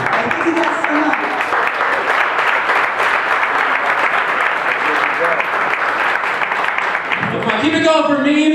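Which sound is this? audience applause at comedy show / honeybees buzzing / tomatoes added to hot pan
audience applause at comedy show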